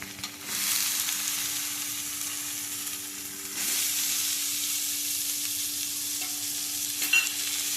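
Salted jackfruit (uppadu pachir) frying and being stirred in a pan: a steady close sizzle with bursts of scraping stir strokes, alone with no voices.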